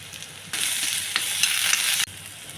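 Onions, crushed green chili and ginger paste are stirred in a hot pan for a bottle gourd yogurt chutney, with a loud burst of scraping sizzle lasting about a second and a half between quieter stretches.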